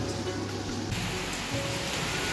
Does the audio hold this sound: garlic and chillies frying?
no